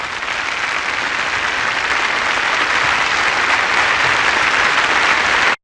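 Townsfolk applaud in the Windows 3.1 game Tales of the Wild Zeep: loud, continuous crowd clapping that holds at a steady level for over five seconds, then cuts off abruptly.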